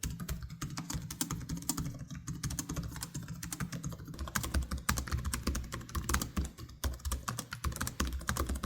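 Typing on ProArt PX13 and Zephyrus G14 laptop keyboards: fast, close, steady streams of soft key clicks and taps, fairly quiet, with no talk.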